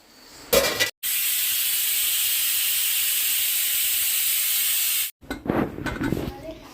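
A loud, continuous pressure cooker steam hiss, cooking mutton, blasts for about four seconds, cut off abruptly, with brief kitchen noise and voices before and after.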